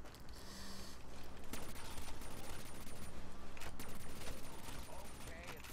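Rapid gunfire in Call of Duty zombies on the Verruckt map, dense repeated shots rattling almost continuously for several seconds, loud and close, with game noise layered underneath.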